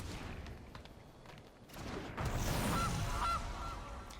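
Game goose from a Goose card in Magic Arena honks twice in quick succession, clear and mid-loud over a low rumbling background of game ambience.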